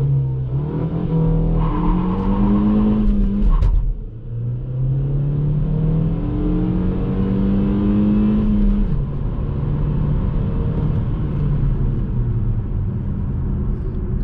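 A 2020 Kia XCeed engine revving hard as it accelerates from 0 to 100 km/h at night with traction control off, pitch climbing through the gears with a brief drop at a shift, loud and close throughout.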